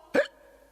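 A cartoon schoolteacher gives a single sharp hiccup, short and close, ringing out briefly in an otherwise quiet room.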